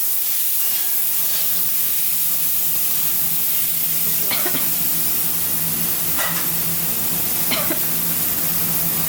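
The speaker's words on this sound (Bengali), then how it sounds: "চিমনিটা চালা।" A kitchen chimney exhaust fan runs over the stove while paneer masala cooks, giving a steady, even whoosh with a low hum and a few brief, faint clinks.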